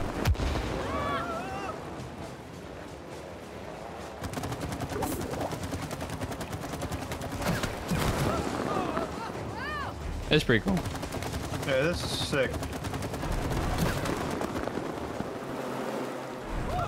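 Gunfire bursts in the co-op video game It Takes Two, repeated shots under near-constant talk from players, with dense busy game noise throughout.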